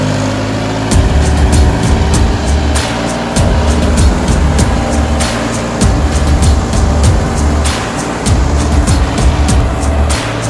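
A Massey Ferguson 58hp tractor engine, model 9000 or 9500 Smart and fitted with a reversible MB plough, runs with a steady low rumble and sharp repeated clicks over it. The sound stays loud and constant throughout, with no talk.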